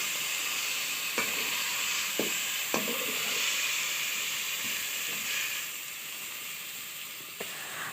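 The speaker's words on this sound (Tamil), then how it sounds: "இப்போ நம்ம பீட்ரூட்டு நல்லா வதங்கிட்டுருக்குது பாருங்கள்" Beetroot tossed with masala sizzles steadily in a pan, a soft continuous frying hiss broken by a few sharp clicks of stirring.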